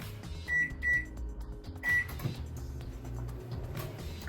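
Microwave oven hybrid being set to preheat: three short, clear electronic beeps from its keypad, two close together and one a moment later, over low kitchen background noise.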